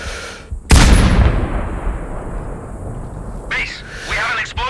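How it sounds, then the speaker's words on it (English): A sharp, loud explosion in the video game Sniper Ghost Warrior Contracts 2 as barrels blow up, followed by a long fading rumble, with short voice fragments near the end. "Base, we have an explosion in Sector 4."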